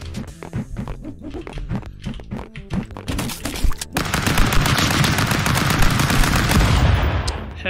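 Rapid automatic gunfire in the video game Stick Fight, bursts of shots at first, then a dense continuous barrage of loud firing that fills the second half, with no talk over it.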